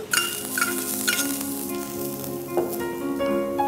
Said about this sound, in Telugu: ఇది లైట్గా ఫ్రై అవుతూ ఉంటుందండి, సాతే చేసుకోవాలి లైట్గా